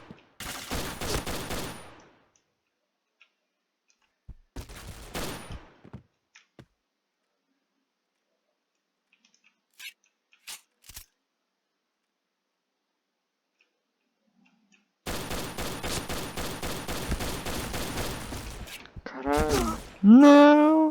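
Pistol gunfire from the first-person shooter Point Blank, heard as rapid bursts of sharp shots in several separated volleys, loud and close, with a brief electronic game effect at the end.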